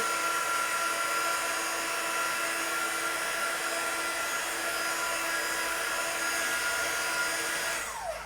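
A hair dryer blows steadily to dry a watercolour greeting card, a loud continuous whir that holds for several seconds and then winds down at the very end as it is switched off.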